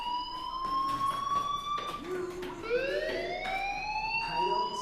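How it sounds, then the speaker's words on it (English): A wailing fire alarm sounds in the video game Life Is Strange, its rising and falling electronic tones steady and prominent throughout, with a voice speaking underneath. "do you hear that fire alarm? That means you should be outside."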